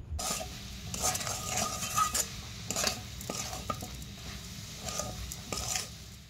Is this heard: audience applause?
no